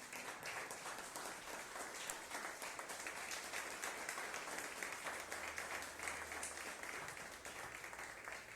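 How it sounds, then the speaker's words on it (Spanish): A Christian congregation at a sermon gives steady, continuous applause, the dense clapping holding at an even level throughout, heard somewhat faint and distant. "Dale ese aplauso al Rey."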